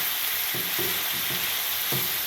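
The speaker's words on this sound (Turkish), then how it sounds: "Burada da turşu kızartacaklar." Pickles fry in a pan, giving a dense, steady sizzle with a few bursts of stirring, close and loud, with no talking.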